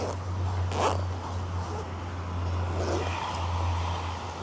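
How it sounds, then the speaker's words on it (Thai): A faulty zipper on a bag is pulled in a few quick rasping strokes, one near the start and another a couple of seconds later, close and clear over a steady low hum. "โอ้ยกระเป๋า นี่ซิปไม่ดีเลย"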